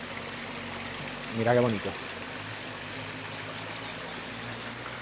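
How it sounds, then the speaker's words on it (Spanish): Spring water from a fountain in Alájar flows in a continuous soft wash beside the interpretation center, heard behind a brief spoken remark. "Fijaos esta fuente, qué bonita, que tenemos aquí justo al lado del centro de interpretación."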